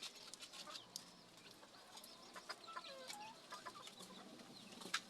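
Bantam chickens in a backyard coop cluck in soft, scattered bursts, with a few sharper calls and rustling among them, fairly faint and slightly distant, with no one talking.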